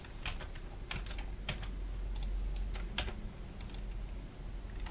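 Fingers tap irregularly on a computer keyboard while text is entered, close clicky keystrokes over a constant low hum.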